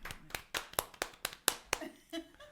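A small studio audience claps for a guest, about eight or nine sharp, fairly quiet claps in a brisk uneven rhythm that quickly tapers off, with a little laughter at the end.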